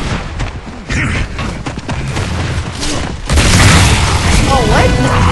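Boomshot explosions and gunfire crash repeatedly in a Gears of War multiplayer match, loud booming blasts layered with rumbling game effects and clattering mechanisms throughout.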